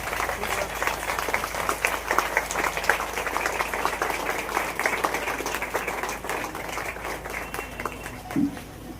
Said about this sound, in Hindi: उत्तराखंड के लिए आप लोग ताली बजा दीजिए।